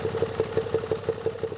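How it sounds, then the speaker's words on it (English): A 2016 Moto Guzzi V7 Stone II motorcycle engine idles steadily, its low mechanical chug pulsing in an even rhythm, close and fairly loud, with no voices. "What do you think of the sound, the mechanical sound of the engine?"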